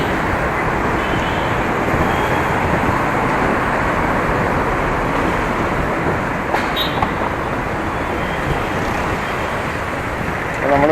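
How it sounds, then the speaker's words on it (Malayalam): Traffic in a jam at Kaloor junction, Ernakulam, makes a loud, unbroken wash of engine and road noise, with vehicles idling and creeping close by. "നമ്മളിവിടെ കലൂർ ജംഗ്ഷനിൽ ബ്ലോക്കിലാണ് കേട്ടോ"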